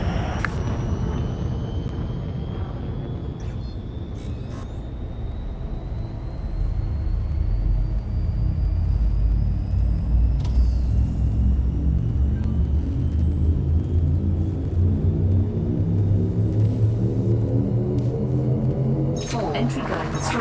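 A spaceship engine in a VR video game rumbles steadily and loudly on departure, swelling partway through as it powers up, with a faint rising whine above and an automated voice speaking.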